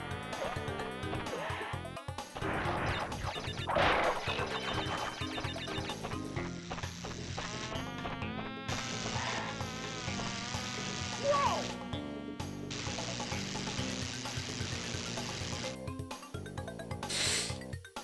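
Buzzing of bees in a platform video game set in a bee-filled area, a steady insect-like drone layered over busy game music and effects throughout.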